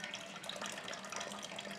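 Water flows steadily into a home brew grain bed while it is sparged, a soft, continuous hissing trickle at low level with no voices.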